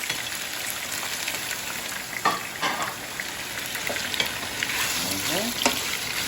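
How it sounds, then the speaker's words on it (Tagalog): Tofu deep frying in hot oil gives a steady loud sizzle and crackle with scattered sharper pops and occasional utensil stirring, close by. "At ipiprito na po natin siya."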